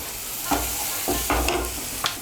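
Spice mixture with onion, garlic and ginger stirred in a frying pan, steady sizzling under repeated scraping strokes of a spoon, close and fairly loud.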